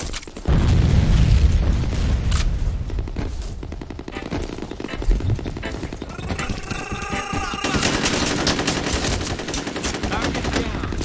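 A grenade blast booms in the combat game FEAR, followed by loud, sustained automatic gunfire and ringing shots that carry on without a break, with a faint voice underneath.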